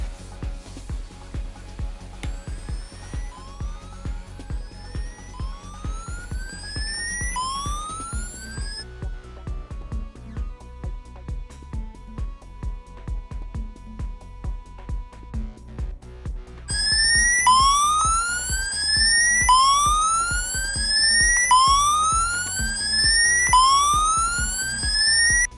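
A low voltage tester in tone mode gives off a rising electronic warble that repeats steadily. It settles into a flatter steady tone midway, then comes back as louder, brighter sweeping chirps over a constant background hum.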